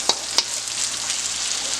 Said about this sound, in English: And just saute your onions, garlic, and ginger.